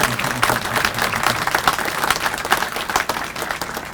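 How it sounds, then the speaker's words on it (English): Guests at a restaurant ribbon cutting applaud steadily, a full, even burst of many hands clapping close by with little talk over it. "let's give them a round of applause."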